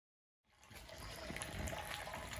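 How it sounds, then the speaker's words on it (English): Concentrated maple sap running steadily through a reverse osmosis filter, a continuous close gushing and hissing of liquid flow that starts abruptly and holds level, with no talking. "The high concentration syrup sap is going through this filter."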